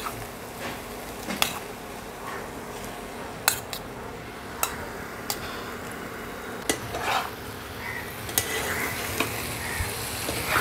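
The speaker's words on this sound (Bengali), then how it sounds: "এবার চিকেনের সাথে মশলাটা মিশিয়ে আমি ঢাকা দিয়ে দেবো।" Chicken frying in a pan with cooked masala while being stirred: a steady sizzle runs throughout, punctuated by sharp clinks and scrapes of a spoon against the pan at irregular intervals.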